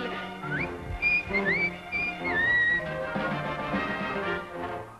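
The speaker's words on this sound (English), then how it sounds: "In the 60s, they experimented unsuccessfully with the jaunty whistle" Jaunty whistled melody from a Swedish Eurovision song, bright, sliding tones carried along over a busy instrumental backing, continuous and fairly loud for about five seconds.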